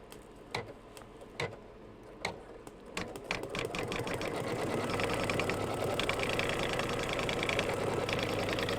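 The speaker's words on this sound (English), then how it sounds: "now I'm going to stitch color stop number 5, and that's going to tack down all of these letters" An embroidery machine stitches a tack-down over appliqué lettering. Several separate mechanical clicks lead into a steady, rapid, close stitching chatter that continues to the end, with no voices.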